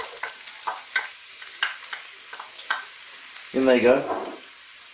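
Onions tipped into hot sunflower oil in a pan, giving a burst of sizzling and crackling frying noise that swells near the end after a few soft stirring clicks, with a brief spoken remark.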